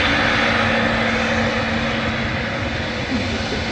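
Airliner engines roar steadily on the runway at Manchester Airport, a loud, continuous broadband rumble and whine that holds for the whole span, heard from a viewing area with no speech.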